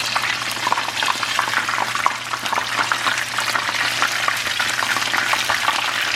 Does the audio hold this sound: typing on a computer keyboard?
no